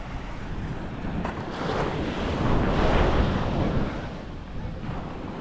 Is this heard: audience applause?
no